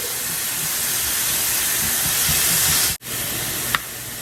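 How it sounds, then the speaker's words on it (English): Diced ham, or turkey ham, sizzles while being heated in a pan, giving a loud, even hiss that breaks off abruptly for a moment before resuming, with a small clink near the end. "I'm going to saute this just for maybe about a minute. Get the ham good and heated."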